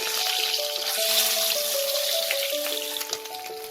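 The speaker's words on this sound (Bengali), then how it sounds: "এই ডিমটা আমি একটু ভেজে নেব।" A boiled egg fries in hot mustard oil, a bright crackling sizzle with dense popping spatters running steadily and close, with a faint tonal hum underneath and no talk.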